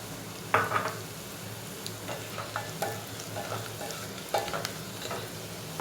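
Whole chillies frying in hot oil in a pan for lauki bhujia, a soft sizzle under occasional clinks and scrapes of a spoon stirring against the pan.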